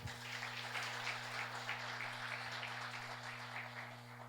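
Church congregation clapping faintly in the background, a soft, sustained patter of applause under a steady low hum.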